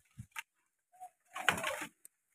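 A young dove calls close by in a few short, soft coos, followed by a denser burst of rustling and calling, with no one talking.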